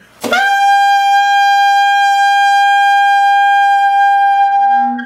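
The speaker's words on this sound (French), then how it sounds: "faire un son filé dans les altissimo. Le La est une note assez facile" A single sustained high altissimo A on saxophone, bright and steady, held for several seconds before cutting away quietly at the end; solo, no talking.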